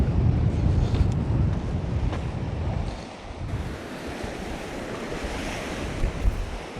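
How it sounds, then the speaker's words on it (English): Strong wind buffets the microphone on the seaside at Beacon Point, Newbiggin-by-the-Sea, during lure fishing, with waves surging and breaking steadily underneath; loud gusts dominate at first, then ease into a softer, continuous rush with no talking. "casting directly into the wind"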